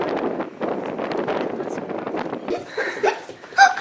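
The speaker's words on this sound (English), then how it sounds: "Ooh, it's windy, but really beautiful." Wind gusts buffet the microphone outdoors at a scenic spot, a rough, continuous rumble close up, with people talking over it.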